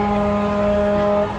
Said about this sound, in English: that noise you hear is a wave pool about to let waves out.